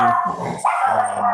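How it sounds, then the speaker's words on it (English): A dog barks and yips close by in a home during an online talk, loud harmonic barks with a brief break, while someone says a single word. "am sorry for the barking."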